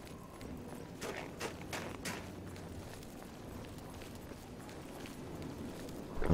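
Horse hooves clip-clop in the video game Oblivion, a run of quick, fairly faint hoofbeats in uneven rhythm across the clip with no talk over them.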